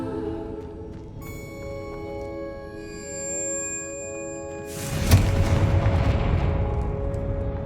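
Confringo blast spell exploding in the Hogwarts Legacy video game, a sudden loud booming burst over sustained tonal game music, followed by a rumbling, crackling tail.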